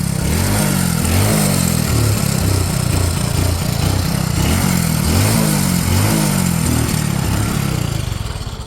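A motorcycle engine runs steadily and loudly with a throbbing low rumble, holding constant before cutting off near the end.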